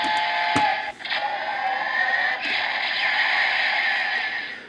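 Power Rangers Solar Streak Megazord toy plays its electronic finisher-move effect, a steady bright, tinny synthesized tone with a few clicks, at moderate level and continuing without pause.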